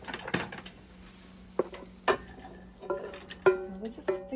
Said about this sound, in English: I'm gonna go ahead and I'm gonna move the meat into my soup pot